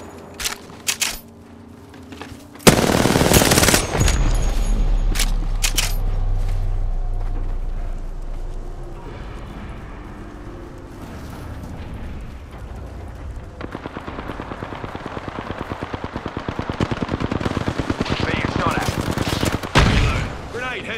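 Gunfire and a heavy ordnance blast in Apex Legends, a loud burst of explosions giving way to a long rumbling stretch, then rapid rattling fire near the end, with players talking briefly over it.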